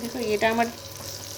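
Onion fritters fry in hot oil with a continuous close sizzle, while a person talks briefly over the bubbling.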